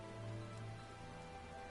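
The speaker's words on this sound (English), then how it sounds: "It's raining." Soft, steady rainfall in Final Fantasy XIV: Shadowbringers, a quiet, even patter blended with sustained tonal background music.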